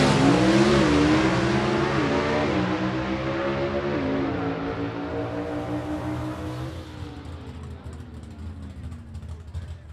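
Gasser drag race cars at a Southeast Gassers Association C-Gas event roar loudly down the drag strip, engine pitch climbing through gear shifts before fading into the distance over a steady crowd and track ambience.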